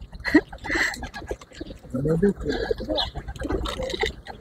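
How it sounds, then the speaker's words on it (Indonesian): A flock of birds crowds in to eat crumbs scattered by a grandmother in Romania, with soft cooing and fluttering heard beneath close, ongoing talk. "Burungnya datang semua ke depan kita, dipikirnya kita kasih makanan banyak."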